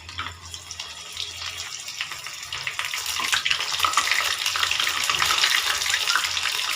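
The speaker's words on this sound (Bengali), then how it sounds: "ভেন্ডিগুলো দেওয়ার সময় গ্যাসটাকে কমিয়ে দেব, যাতে পুরো ভেন্ডিটা ভালোভাবে ভাজা হয়" Okra fries in a pan: a steady hiss and crackle, growing slightly louder midway, with no talking.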